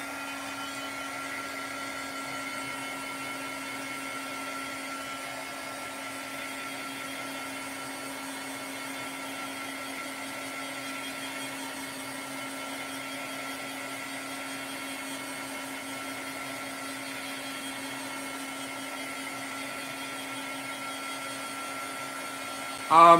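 A hair dryer blows steadily on wet metallic paint, a constant close whir that holds evenly throughout with no break and ends in a brief bump.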